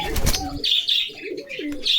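A pair of pigeons at a pigeon farm in Bogura gives short chirping calls and soft coos in quick bursts, close to the microphone, with a brief flutter near the start.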